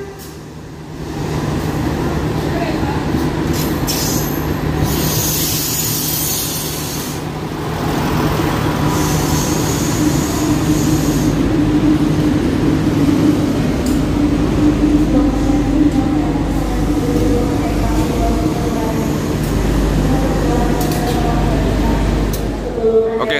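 A CC 201 diesel locomotive built in 1983 hauls a passenger train on the Surabaya to Banyuwangi line. It makes a loud, continuous rumble and clatter of wheels on rails, heard from on board, with talk throughout.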